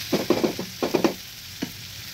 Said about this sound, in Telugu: మంచి నూనెలో మగ్గాలి. కలుపుతూ ఉండాలి అప్పుడప్పుడు.